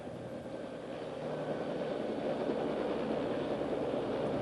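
A Bell OH-58 helicopter's turbine engine idles before shutdown, a steady broadband whine and rumble that swells slightly and then holds constant, close and continuous with no voices.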